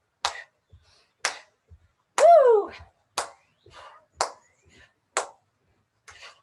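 Hands clapping during a workout, six sharp claps spaced about a second apart, with a voice whooping loudly between them.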